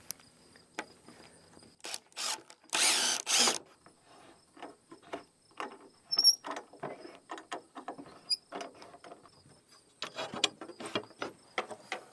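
A power drill drives the last screw into house exterior trim in one short, loud burst, set among scattered clicks, rattles and handling noises on a quiet job site.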